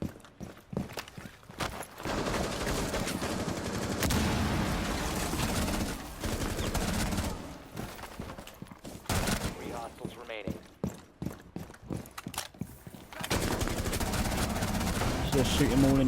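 Rainbow Six Siege gunfire crackles in rapid bursts and sustained automatic volleys, fairly close, broken by short pauses, with a voice talking over parts of it.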